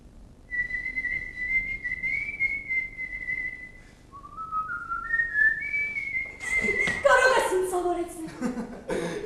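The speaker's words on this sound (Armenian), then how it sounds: "Սուլելը հեշտ է։ Ամեն մարդ էլ կարող է։" A person whistles a slow, wavering tune, steady notes sliding between pitches, followed by laughter and talking near the end.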